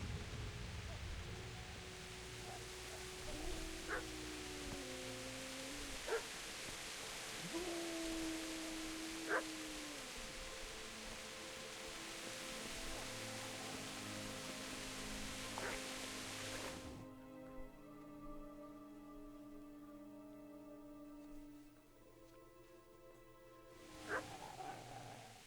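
A dog barking in the medieval video game Kingdom Come: Deliverance, with several separate barks and yips over steady ambient noise across a long stretch, followed by a quieter section with one final bark.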